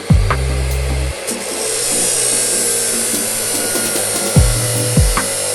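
A small DIY hinge-style mini cutter saw slices through wood, giving a steady, loud motor whine with a continuous cutting rasp and a few sharp tonal shifts as the blade bites into the workpiece.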